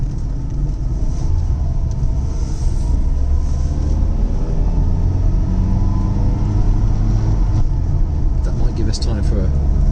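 Interior drone of a 1970 Lancia Fulvia Berlina being driven, a steady low engine hum and road rumble with a few brief surges of revving, loud and close throughout.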